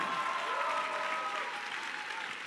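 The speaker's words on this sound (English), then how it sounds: "if you could give me a round of applause, just welcome me here" An audience at a motivational talk in Kuala Lumpur gives a steady round of welcoming applause, a dense even wash of clapping that holds at a moderate distance and fades slightly.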